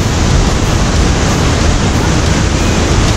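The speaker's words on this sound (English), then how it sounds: "The waterfall's right there." Bridalveil Fall in Yosemite roars as a loud, constant wash of falling water, a dense broadband rush mixed with wind buffeting the microphone, with no talking.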